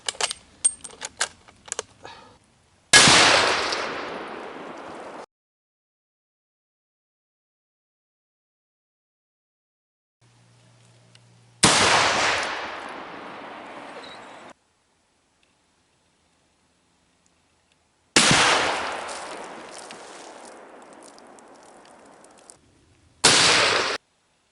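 A 7.65 Argentine Mauser rifle fires three loud, sharp shots spaced several seconds apart at steel targets and a beer can at 200 yards, each crack followed by a decaying echo, with quiet gaps between.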